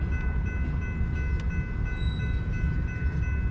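Freight railroad cars with disconnected air lines and no brakes roll through a rail yard, giving a continuous low rumble with a faint high metallic squeal over it. No talking is heard.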